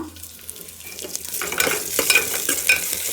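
Tomato paste made from three tomatoes frying in a pan for rasam, a short burst of close sizzling and stirring that swells as the paste hits the hot oil, with no talking.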